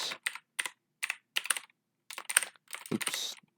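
Bursts of typing on a computer keyboard, quick clusters of clicky keystrokes separated by short pauses, close and alone.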